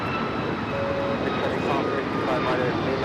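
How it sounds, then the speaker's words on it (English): A United Airlines Boeing 737 MAX 8 on its takeoff run at LAX gives a continuous, fairly distant jet roar with a few thin tonal whines, while a voice talks over it. "This is United Airlines 2443 taking off to Cleveland on the MAX 8"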